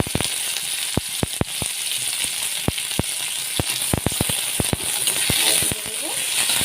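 Chopped onion goes into hot oil for a bitter gourd do pyaza, giving a steady, close frying sizzle dotted with many sharp pops and crackles throughout.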